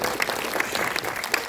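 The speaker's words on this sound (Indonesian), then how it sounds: "Pak Tony, Bu Sayu, saya ingin tepuk tangan yang luar biasa untuk Michelle." Audience clapping for actress Michelle Ziudith at a film press conference, a dense, steady burst of many hands applauding together at moderate volume throughout, with no clear voices.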